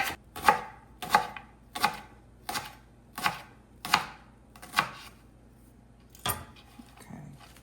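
Leeks are chopped on a cutting board with a knife, giving about nine crisp, evenly spaced thuds that slow slightly toward the end. The close, clear strikes stand alone without any voices.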